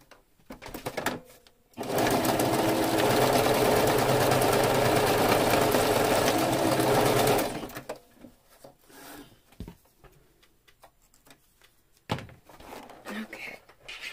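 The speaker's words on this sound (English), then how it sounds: "I'm just going to take this and do a zigzag stitch with my sewing machine." A sewing machine runs a zigzag stitch on packaging and paper scraps for a junk journal. It whirs steadily for about five seconds, then stops, followed by quiet handling noises and light talk.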